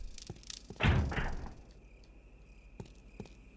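A locked door in the Resident Evil video game is tried: a short rattling thump, with scattered light knocks before and after, over a faint steady hum.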